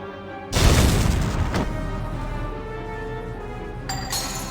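A grenade bursts in the video game Valkyria Chronicles, one sharp loud blast that rings out and decays over a few seconds, with a faint clink afterward.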